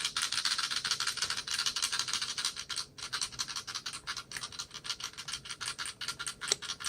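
A Rockman EXE Advanced PET 2 handheld toy jiggles and rattles as it is handled, giving a steady, close scratchy rubbing and clicking texture with brief dips, and no speech over it.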